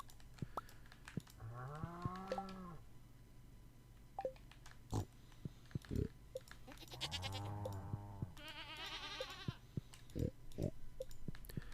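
A human voice imitates two goats bleating in a farming game, with wavering, quavering bleats in two bursts, one early and one later, each several seconds long, over a low steady hum and scattered clicks of typing.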